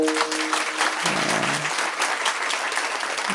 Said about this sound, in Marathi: टाळी जर वाजवली तर खेडला आवाज गेला पाहिजे.